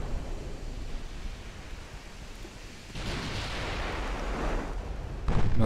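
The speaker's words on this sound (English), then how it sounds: "Lauenburg is firing back at the heavy cruiser with 14-inch guns and 8-inch." Heavy 14-inch naval guns firing during a battleship engagement in Ultimate Admiral: Dreadnoughts, a deep booming blast that swells into a sustained rumbling roar, with a second, sharper boom near the end.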